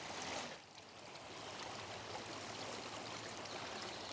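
Floodwater rushing across farm land in a steady, broad hiss, fairly faint and continuous, with no voices.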